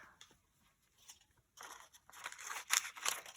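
Scissors snipping through paper, a few quiet cuts at first, then louder, quicker crisp snips close by.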